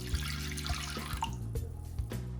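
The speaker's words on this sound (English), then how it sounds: "now I'm gonna put in about a cup of some pretty warm water" Warm water from a kitchen tap, about a cup, runs into a vessel with a gurgling splash and intermittent drips and clunks, close and moderately loud, then trickles off as the pour ends.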